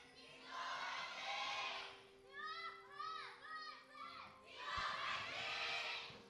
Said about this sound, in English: you guys can probably tell by the thunderous applause, the studio is entirely packed out